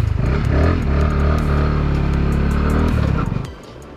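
A Bajaj Pulsar NS200 motorcycle is held at high revs during a smoke burnout, giving a loud, sustained buzzing engine roar that cuts off sharply near the end.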